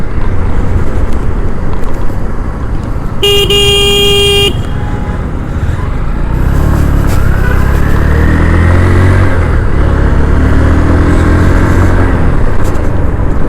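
A Honda Hornet 2.0 motorcycle is ridden on the road with a continuous engine drone and wind roar, a short horn blast early on, and the engine note rising and falling later.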